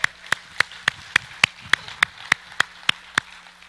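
Steady, evenly spaced single claps ring out in a church, about a dozen crisp hand claps in a regular rhythm over quiet room tone with a faint low hum, as the congregation applauds.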